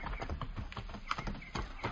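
Pack horses' hooves clip-clop in a quick, uneven walking rhythm as they skirt a grove, fairly faint, with soft rustling behind them.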